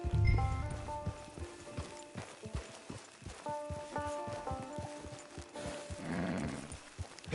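Horse hooves clip-clop steadily in Red Dead Redemption 2 as a rider brings a mount into a camp, each footfall crisp and close against a soft musical backdrop with a brief rumble near the start.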